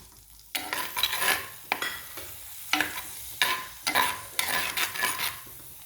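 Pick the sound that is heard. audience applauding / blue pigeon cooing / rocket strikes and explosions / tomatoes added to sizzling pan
tomatoes added to sizzling pan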